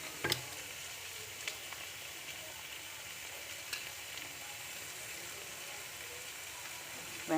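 Onions and curry leaves fry in hot oil, a steady, soft sizzling hiss that runs throughout, with an occasional faint clink of a utensil.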